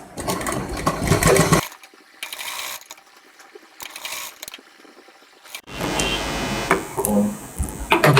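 Sewing machine stitching the neckline of a princess cut blouse, running in loud bursts of rapid mechanical chatter separated by quieter pauses, with no talking.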